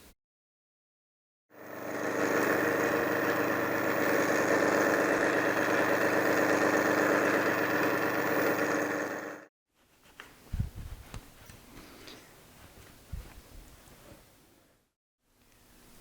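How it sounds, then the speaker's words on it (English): A shaper fitted with a milling head, spinning at 1390 RPM, cuts a strip of brass with a steady, loud mechanical whir for about eight seconds, then stops, followed by a few soft thumps and clunks. "you saw me milling that strip of brass"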